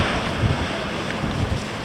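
Strong wind blowing on the Oregon coast, a steady loud rushing roar with buffeting against the microphone, mixed with distant surf, no voices.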